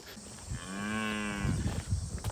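A cow calving on a farm lets out one long, close, loud moo that rises and fades over about a second, followed by some soft rustling.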